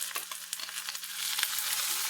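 Thinly sliced onions frying with chilli in a pan for a Mangalorean home-style rainy-day dish, giving a steady, close crackling sizzle with light stirring scrapes throughout.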